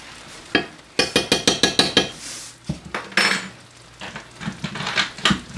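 Dishes and metal utensils clank while deer burritos are being cooked: a quick run of about eight sharp, evenly spaced clinks, then scattered clatter and scraping close by.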